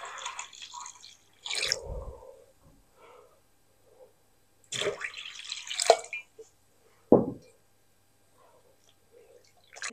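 Cold water is poured in short bursts into hot water with a dissolved cleaning tablet, giving close splashing and trickling with quiet gaps between pours.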